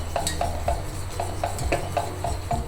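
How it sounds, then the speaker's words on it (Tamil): Fresh cream being beaten at medium speed for mango ice cream: a steady low motor hum with regular rhythmic clicks and taps of the beaters against the bowl, close and moderately loud, no voices. "ஃப்ரெஷ் க்ரீமை வந்து பீட் பண்ணிக்கலாம். ரொம்ப ஸ்பீடாக இல்லாமல் மீடியமாக பீட் பண்ணிக்கோங்க"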